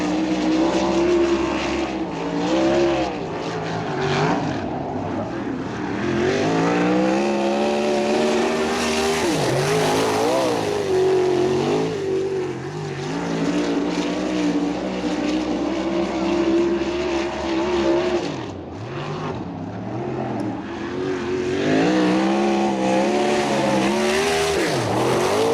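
A non-wing USAC sprint car roars through a qualifying time trial at Bubba Raceway Park in Ocala, its loud engine rising and falling through the laps, continuous and close, with faint announcer talk.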